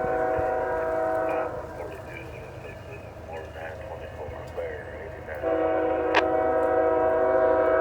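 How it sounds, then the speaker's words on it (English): A Norfolk Southern freight train rolls past a trackside defect detector, with loud sustained horn blasts at start and end, a quieter stretch of rumbling cars between, and speech-like sounds over the rail noise. "The front of the train is just going past the defect detector in Walton."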